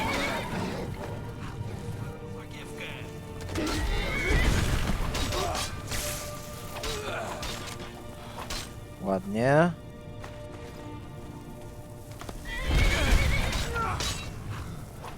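A horse in Skyrim gives a sharp, descending neigh partway through, set among game sounds of footsteps and clatter while someone talks over much of the scene.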